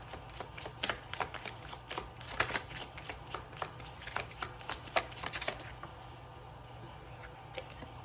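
Tarot cards shuffled by hand in a run of crisp, rapid riffling bursts against a low steady hum; the flurries thin out and stop near the end.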